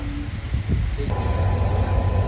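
An electric train on its first trial run between Sangaldan and Reasi rumbles steadily with low rolling noise and a faint high hum, loud and continuous without talk.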